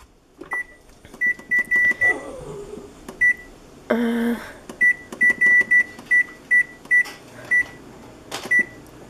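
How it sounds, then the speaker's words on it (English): Kitchen timer being reset during a fabric tea-dyeing session, giving a quick series of short, sharp electronic beeps in irregular bursts, with a brief rustling clatter midway and no talking. "But resetting my timer."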